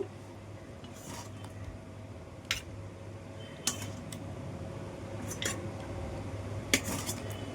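Fish curry and potato-taro curry being served into bowls: scattered light clinks and taps of spoon on metal dishes, close but quiet, over a faint steady hum.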